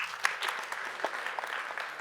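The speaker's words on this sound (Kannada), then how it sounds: "ಒಂದು ದೊಡ್ಡ ಚಪ್ಪಾಳೆ ಬರ್ಲಿ" An audience at a Kannada book event claps for a couple of seconds, a soft, fairly distant patter of many hands with a few sharper individual claps standing out.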